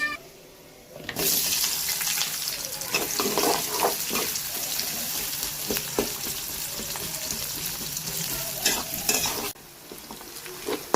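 Onions sizzle and crackle loudly in hot oil, a continuous frying hiss with occasional stirring scrapes, starting abruptly after a brief quiet moment.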